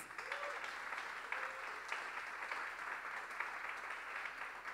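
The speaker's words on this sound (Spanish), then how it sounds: "Y ese es el aplauso al gran talento yucateco que hoy recibe de todas y todos ustedes estos aplausos." Steady applause from an audience at a state music composition award ceremony, honouring the winning composer; continuous even clapping with no voices, moderately distant and fairly quiet.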